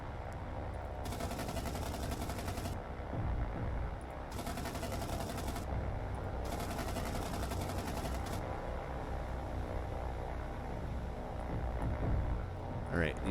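Sustained gunfire from naval guns in a World War II naval combat game, repeated bursts of rapid shooting in long stretches layered over a steady engine rumble.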